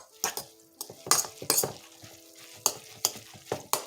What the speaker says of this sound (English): I'm going to stir it up real good